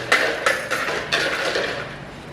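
A kitchen knife chopping vegetables on a cutting board for a ramen veggie stir fry, giving a handful of irregular, moderately loud chops spaced through a short stretch with faint kitchen background between.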